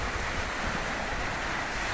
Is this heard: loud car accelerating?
no